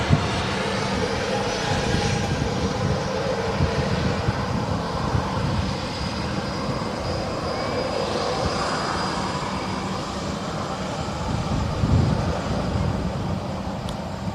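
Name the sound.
Ryanair Boeing 737 jet aircraft at Manchester Airport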